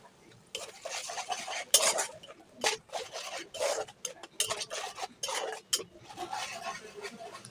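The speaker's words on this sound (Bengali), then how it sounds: "এখন মশলাটাকে ভালো করে কষিয়ে নেব।" Spice masala of chilli powder, coriander powder, salt, cinnamon and cardamom is stirred and fried in a pan, with repeated scraping strokes of a utensil against the metal in an uneven rhythm, close and fairly loud.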